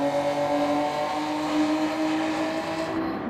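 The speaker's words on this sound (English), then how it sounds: "now power up through the gearbox" Racing car in a Japanese road car race at Deep Forest Raceway in a video game, its engine droning loud and steady as it pulls up through the gears, a continuous high rev note with no talk.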